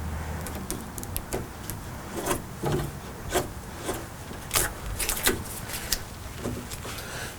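A blade trims the vinyl side-art on a Mortal Kombat II arcade cabinet, making a series of short, scratchy rasping cuts and scrapes in an irregular rhythm. The sound is close and moderately loud.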